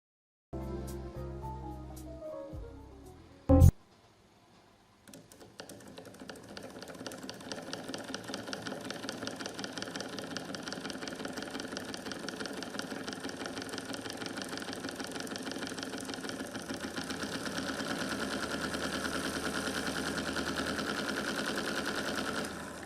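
An experimental electric motor whose coil stator is fixed to acrylic discs and spins with the rotor; a few clicks and a sharp knock, then a brief pause, then a steady mid-pitched whirring hum that builds and holds.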